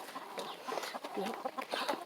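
Several backyard hens cluck in short, overlapping bursts close to the microphone, a busy, continuous chatter of fowl with no talk over it.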